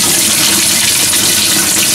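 Water rushes loudly and steadily into a freshwater tank being installed in a DIY travel trailer, the fill running close and constant with its lid left loose.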